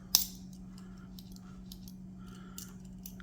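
Small metal clicks and snips as the scissors on a 93 mm Victorinox Pioneer X 2024 Limited Edition pocket knife are handled, one sharp click at the start then faint scattered ticks over a steady hum.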